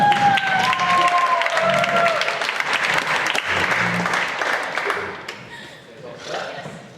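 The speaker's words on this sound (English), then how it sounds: "let's give him a big round of applause" An audience applauds loudly with dense, sustained clapping and some crowd noise, fading toward the end as a voice speaks over it.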